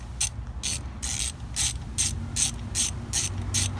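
A ratchet fitted with a T30 bit tightens valve cover screws on a Chevy Cruze, giving a steady run of about nine bright, evenly spaced clicks close by, with no talking.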